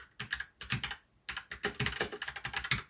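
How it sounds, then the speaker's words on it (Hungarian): Someone types a password on a computer keyboard while accessing a router over an SSH tunnel, producing rapid close clattering keystrokes in two bursts separated by a brief pause, with no talking. "ezt most bepötyögöm"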